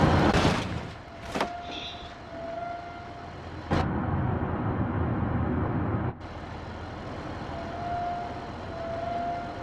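Simulated 1992 Chevy Caprice engine driving in BeamNG.drive: a continuous engine drone with shifting pitch, broken by several sharp impact bangs and brief clunks, loud and without talk.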